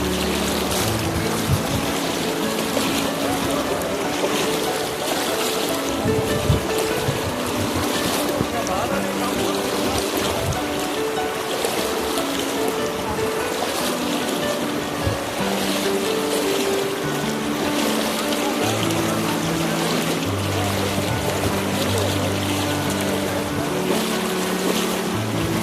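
Water at Noori waterfall near Haripur makes a steady, dense rushing roar for the whole stretch, with a low rumble and faint tonal sounds mixed in.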